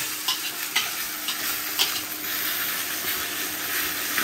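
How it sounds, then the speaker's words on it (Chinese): Chinese cured pork belly, larou, fat-rich and stir-fried in a wok with no added oil, sizzles steadily and close up, with scattered louder crackles and the scrape of a spatula stirring through it, and no voices. "我们现在炒这个腊肉，这个腊肉因为有很多肥肉，所以不需要放油"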